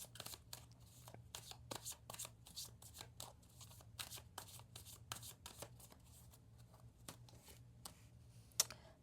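A deck of energy cards is shuffled by hand in quick, crisp riffling bursts with short pauses between them, close and quiet in a still room.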